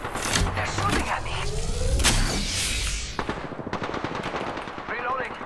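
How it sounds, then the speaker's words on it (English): Rapid bursts of enemy machine-gun fire crackle loudly and continuously in a shooter video game, with dense overlapping shots and sharper single reports toward the end. "They're shooting at me."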